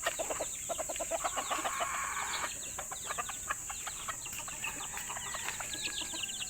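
Chickens and chicks cluck and peep in quick repeated bursts close by, a busy chorus of short calls over a faint steady background hum.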